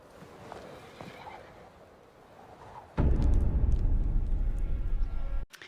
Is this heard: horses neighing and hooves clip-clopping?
yes